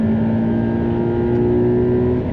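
A race car engine drones steadily at high revs while launching down a long straight at Cremona Circuit, a sustained tonal whine held throughout with little change, close and loud.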